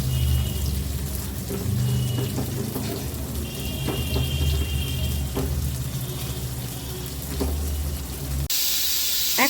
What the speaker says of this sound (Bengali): তেজপাতা, গোটা গরম মশলা ফোড়নে দিয়ে দিলাম।